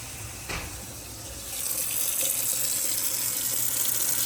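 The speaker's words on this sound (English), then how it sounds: "Turn the water off." Water runs steadily from a kitchen faucet into a sink fitted with a new garbage disposal, a continuous hiss that grows a little louder partway through, with no voices.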